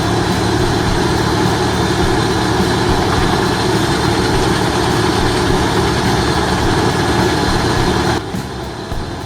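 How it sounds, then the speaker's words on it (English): A huge wood chipper powered by a 700-horsepower Volvo engine runs with a loud, steady low roar and dense mechanical rumble, dipping slightly near the end. "At its heart lies a 700 horsepower Volvo engine"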